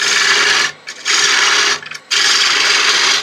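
Woodturning scraper cutting a wooden coin dish spinning on a lathe: a loud, steady rasping scrape in three long passes with two short breaks between them.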